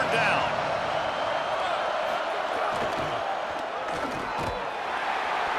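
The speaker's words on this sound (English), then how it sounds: "Here comes this home crowd as the defense tries to get off the field on 3rd down" A home crowd roars steadily at a football game as the defense faces third down, a dense, sustained wash of cheering under continuous commentary.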